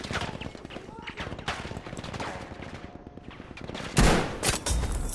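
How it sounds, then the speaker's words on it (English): Rapid gunfire in a video game, with repeated close shots in bursts and a louder blast near the end, while someone talks over it. "Where am I getting shot from?"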